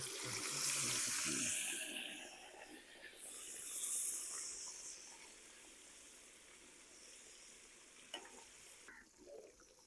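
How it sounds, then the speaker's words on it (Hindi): Pieces of fish frying in oil in a home kitchen for a Lahori fish fry, a soft steady sizzle that swells early and then settles into a quieter background crackle with a few faint clinks. "इसी तरीके बाकी सारी मछली फ्राई कर लेंगे जी।"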